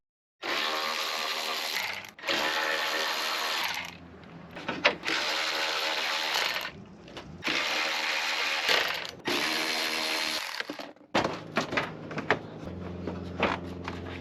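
A ratchet works loose 10mm bolts on a Honda Accord headlight assembly, sounding in several long runs of rapid clicking separated by brief pauses and handling clatter, close and without speech.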